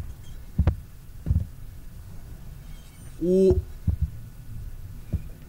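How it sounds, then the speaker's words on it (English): Heartbeat sound effect in the horror video game Anthology of Fear, a few low, dull thumps spaced about every second, with a brief exclamation from a player in between. "It's like there's a heartbeat every time."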